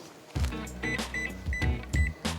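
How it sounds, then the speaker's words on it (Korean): A microwave oven runs while heating a grain-filled eye compress, giving a steady low hum with repeated clicks, thumps and brief beeping tones over a few seconds. "이거를 한번 전자레인지에 돌려볼까요?"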